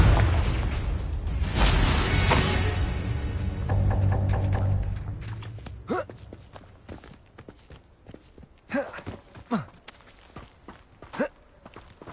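A Confringo fire spell blast in Hogwarts Legacy booms out loud and broad, holds for a few seconds, then dies away, followed by scattered short clicks and brief voiced sounds.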